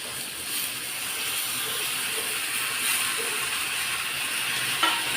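Cut, washed medium potatoes dropped into a hot tempering pan give off a steady crackling sizzle, fairly close and continuous, with a brief louder clatter near the end.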